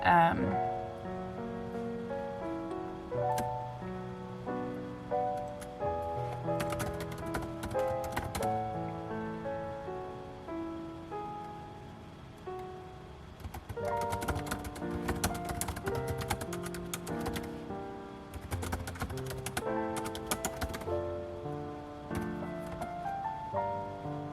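Computer keyboard typing, a soft, rapid patter of keystrokes in irregular bursts, sits faintly under continuous background music.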